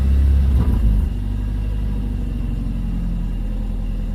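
A 2002 Nissan Sentra SE-R Spec-V with a newly replaced throttle body runs close by, a brief louder surge in the first second dropping back to a steady low idle rumble.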